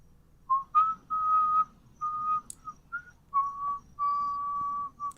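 Someone whistles a slow, simple tune nearby, a series of clear sustained notes separated by short pauses, with quiet background otherwise.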